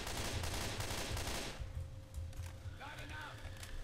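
Rapid bursts of two-shot weapon gunfire in Left 4 Dead 2 dominate the first half, then fade into quieter in-game sounds with a few electronic tones.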